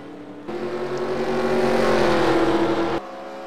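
Race cars in a Cars racing video game at Richmond Raceway roar past on the back straightaway, a loud sustained engine drone with a steady pitched whine that cuts off abruptly, and no talking.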